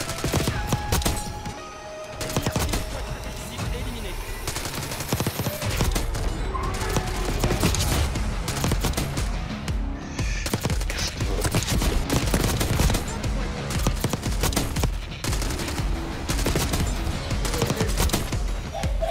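Dense automatic gunfire fills a Black Ops 6 multiplayer match on a map called Babylone. Rapid bursts and sustained volleys continue almost nonstop, loud and close, with game effects layered in.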